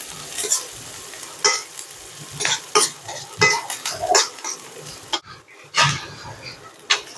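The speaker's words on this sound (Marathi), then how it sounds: "कांदा तेलामध्ये चांगला आपल्याला परतून घ्यायचा आहे" Finely chopped onion sautéing in hot oil for a traditional Marathi wild-greens dish, giving a steady sizzle broken by irregular scraping and stirring clatters of a spoon against the pan, close up.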